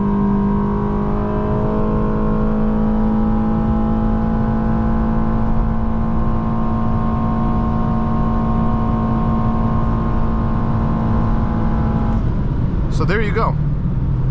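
A 2016 Honda Accord Sport with the 2.4 engine accelerating from inside the cabin, its steady drone rising gradually in pitch as someone speaks briefly near the end.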